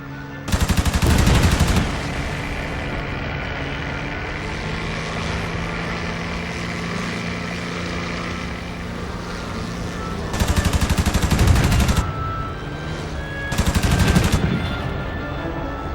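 Aircraft machine guns in the combat flight game IL-2 Sturmovik on Xbox 360 fire three loud, rapid bursts over a steady propeller-engine drone, with the first burst near the start and two more close together near the end.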